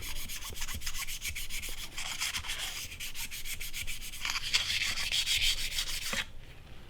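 Metal inside a Marlin rifle action is smoothed with steady, rhythmic rubbing strokes, a close, fairly quiet, continuous scraping with no voices.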